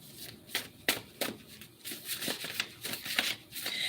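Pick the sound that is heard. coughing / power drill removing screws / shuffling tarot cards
shuffling tarot cards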